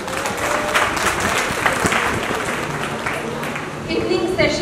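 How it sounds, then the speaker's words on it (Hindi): An audience at a school annual day breaks into sustained, enthusiastic applause, a dense wash of clapping that fills the hall for several seconds with a few voices faintly mixed in. "एक बार जोरदार तालियां बजा दें, कार्यक्रम अब शुरू होने वाला है।"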